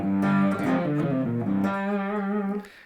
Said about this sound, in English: this is an overdrive pedal. So it kind of gives it a little more distortion and a little more volume.